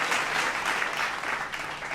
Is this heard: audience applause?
yes